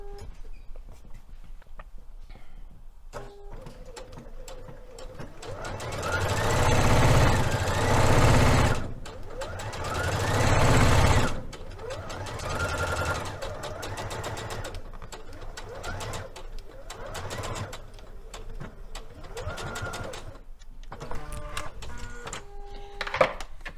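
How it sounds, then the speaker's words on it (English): Sewing machine running a second line of stitching a quarter inch from the seam on a palazzo suit, bursts of rapid mechanical whirring that start and stop, with quieter pauses between runs. "we are going to sew this again 1/4 of an inch from our actual stitching line"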